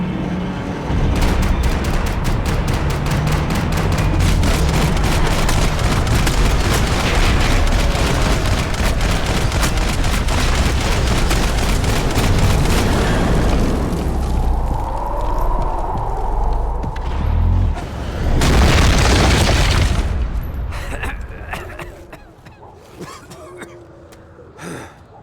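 Gunfire from a shootout in the video game Max Payne 3, with rapid, loud bursts of shots in the first half and then a quieter stretch as the firing falls away.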